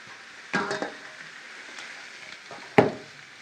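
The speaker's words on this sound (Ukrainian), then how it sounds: "І буду обсмажувати моркву." Quiet sizzling of carrots frying in oil in a pan, with a couple of louder clanks of a utensil against the pan.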